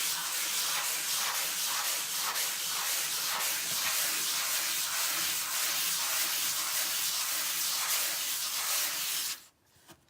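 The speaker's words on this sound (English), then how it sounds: "I'm just going to just take a sanding pad" A sanding pad is lightly sanded over a painted raised stencil, giving a steady, close, rhythmic scratchy rubbing that runs for several seconds and then stops abruptly.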